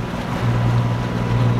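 A sailboat motoring under engine at sea in very light wind gives a steady, low droning hum with a constant rumble and wash of wind and water, and no voices are heard.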